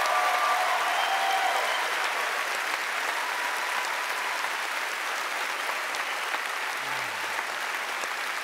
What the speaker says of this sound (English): round of applause for our panelists here